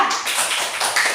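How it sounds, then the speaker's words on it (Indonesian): Applause from a classroom of students cheering a presenting group, a dense burst of many hands clapping close by for about a second, with no talking over it. "Tepuk tangan untuk kelompok 3."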